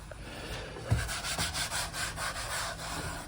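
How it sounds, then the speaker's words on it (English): A 2019 Honda Pilot brake fluid reservoir is wiped clean with a cloth, making soft, steady rubbing and scrubbing strokes up close, with a light bump near the start and no talking. "So I'll wipe all this stuff clean."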